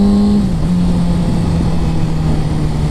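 A 2007 Kawasaki ZX6R Ninja 600 sport bike's engine drones loud and close at a high, steady pitch that dips slightly and then holds.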